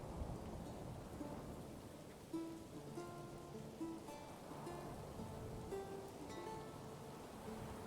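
Steady wash of heavy rain with low rolling thunder during a storm in the woods in the medieval strategy game Manor Lords, faint and continuous with no talking.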